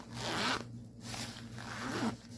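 A zipper on an inner pocket of a tote bag is pulled, two rasping zip strokes with a brief pause between, close and fairly quiet.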